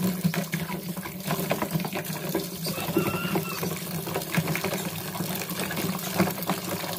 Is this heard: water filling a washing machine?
yes